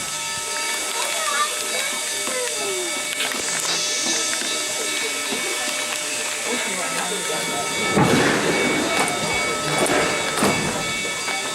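A Black Hills Central Railroad passenger train starts moving out of the station, a steady hiss and rumble with creaking, squealing couplings and a heavier clunk as slack runs out, heard from on board; a voice speaks over it.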